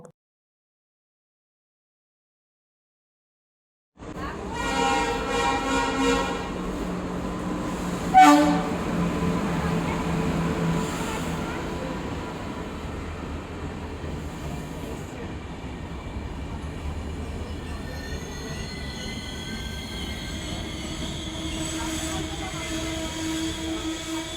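After a few seconds of silence, a train rumbles past steadily with clattering wheels and a brief horn toot, the loud roar continuing throughout.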